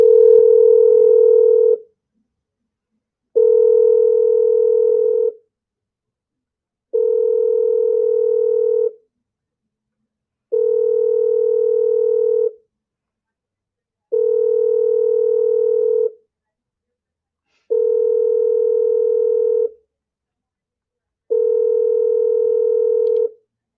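Ringback tone of an outgoing telephone call to a scammer's line, a steady two-part tone repeating seven times in even bursts with silent gaps between, clear and alone with no talking.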